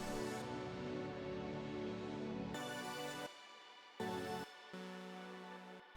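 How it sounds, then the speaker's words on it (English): Lush ambient sample sequence run through amp and reverb in Ableton Live 10, a dense, washy swell of sound that cuts in and out abruptly in blocks, faint overall with no voices. "Together it sounds like this lush kind of sequence."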